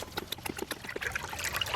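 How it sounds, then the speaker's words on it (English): Liquid swishes and trickles as an indigo dye vat with a hydrosulfite solution is stirred for dyeing yarn, giving soft, uneven sloshing pulses that are close and fairly quiet, with no talking. "Now right now as I'm stirring, that's introducing air."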